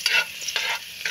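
Garlic frying in a pan, a close bright sizzle with three quick pulses of scraping as it is stirred.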